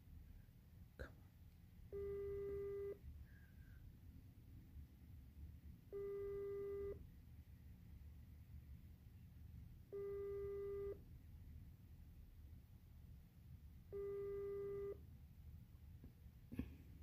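Repeated phone ringback tone while a call waits to be answered, four evenly spaced one-second tones about four seconds apart over a low background hum, no talking.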